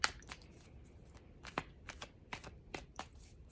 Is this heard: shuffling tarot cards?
yes